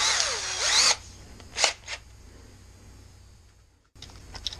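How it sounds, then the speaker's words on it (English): A power drill whines loudly for about a second while drilling holes in a plastic bottle, then gives two short bursts, followed by quiet room noise and a faint return of the motor at the end. "we'll see if it still stays snapped up after we drill the holes"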